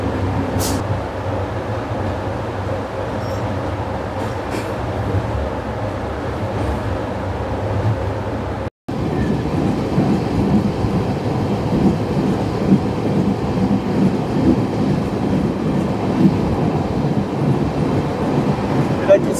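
Heard from inside a Vistadome coach on a forest route, the train gives off a steady low rumble and rattle that continues without a break, cut only by a momentary dropout partway through.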